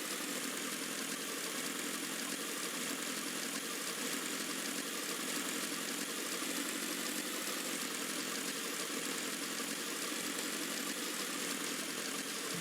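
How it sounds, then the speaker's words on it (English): Motorcycle mount engine in the video game Final Fantasy XIV, a steady, even mechanical hum and whir held at constant volume throughout, with no voices. "My motorcycle is so cool!"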